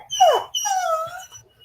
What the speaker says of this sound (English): Luna's like whining because I'm snacking on tater tots.